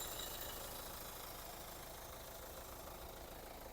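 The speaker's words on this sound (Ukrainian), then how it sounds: "Двигун працює рівненько, без проблем." A 2014 Hyundai ix35 diesel engine idles steadily with a low, even rumble and broadband hum, continuous and close, with no voices.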